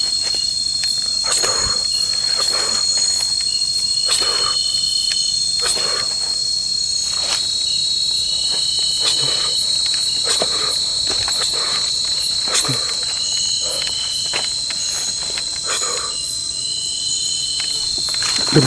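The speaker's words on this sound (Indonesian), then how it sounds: "dengerin jangkrik." Crickets chirp steadily at night beside a roadside path, a dense, high, continuous trill with regular pulsing bursts repeating for the whole stretch, fairly close and with no speech.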